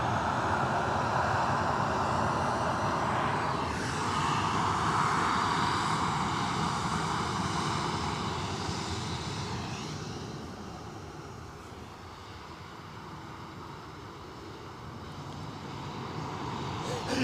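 An airliner taxiing at Edinburgh Airport, a steady broadband engine roar that swells and then eases off, heard from a distance outdoors and with no talk over it.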